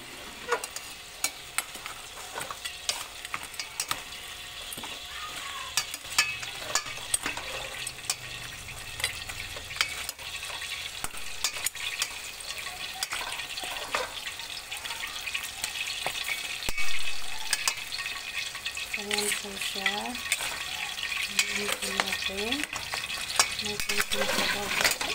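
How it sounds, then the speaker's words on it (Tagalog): Pork rib kaldereta with carrots and potatoes being stirred in a pot, a spoon scraping and clinking through the thick simmering stew with a faint sizzle, close and steady, with a few sharper knocks toward the end. "Haluin natin."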